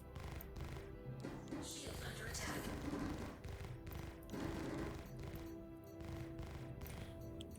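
Laser weapons fire in rapid, repeated bursts during space combat in a game, with a Reliant Tana ship engaging targets; the shots come loud and dense over a humming background, and someone talks over them.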